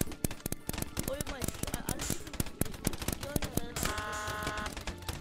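Sniper gunshots in the video game Rec Room, a rapid string of sharp, loud cracks and pops firing in quick bursts, with a brief electronic tone near the end and a voice talking underneath.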